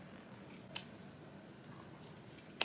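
Scissors snip through a jeans waistband during a home clothing alteration, two or three quiet, sharp crisp cuts spaced apart in an otherwise hushed room.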